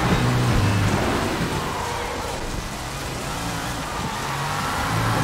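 Steady rain with rumbling thunder in the video game Sleeping Dogs, a constant wash of falling water over low rolling rumbles, with a car engine humming beneath and no voices.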